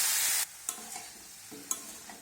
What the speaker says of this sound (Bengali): সবজিগুলোকে ভেজে নেব।